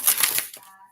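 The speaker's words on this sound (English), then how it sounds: "Let me just shuffle these cards" A deck of cards gets a quick riffle shuffle, a short burst of close, crisp fluttering clicks lasting well under a second before fading out.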